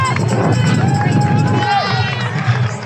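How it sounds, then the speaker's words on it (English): Crowd at the Manchester Marathon cheering and clapping for passing runners, a close, lively din of shouts and applause with a whistle-like tone rising through, over the patter of running feet. "who was receiving constant cheers from the crowd"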